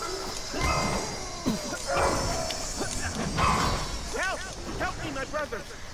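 Dogs bark and yip in LEGO Marvel Super Heroes 2 amid combat hits and crashes, a quick string of barks near the end, with a player talking over the game sounds.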